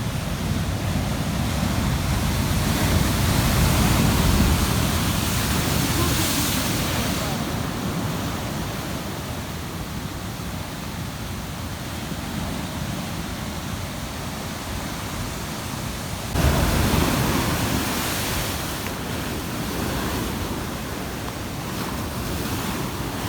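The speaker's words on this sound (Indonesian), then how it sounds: "Ombaknya besar" Big ocean waves at Lhok Ketapang crash and wash continuously in a loud, close roar of surf, swelling twice with fresh breakers amid wind noise on the microphone.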